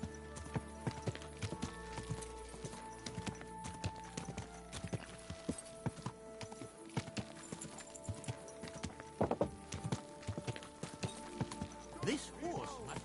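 Horse hooves clip-clop in a steady rhythm throughout, set against music with sustained tones and a faint whinny near the end.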